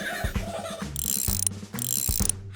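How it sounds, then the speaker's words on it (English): Cartoon wrench ratcheting on tractor cogs, with loud rapid metallic clicks in two bursts and clanking gear sounds between them, close and bright with no speech. "Strong muscles to clench to lift up this wrench."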